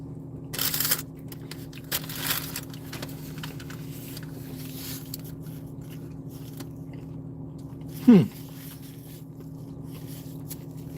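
Someone bites into a Taco Bell retro menu item with a soft, flatbread-like tortilla shell, giving a couple of brief close crunchy bites followed by quiet chewing over a low background hum.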